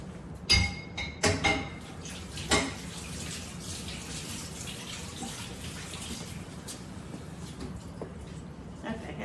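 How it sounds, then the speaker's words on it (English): Running tap water splashes over hands at a kitchen sink while making bread dough, a steady close hiss after a few sharp clinks and splashes at the start, with speech faintly in the background. "Wash my hands there."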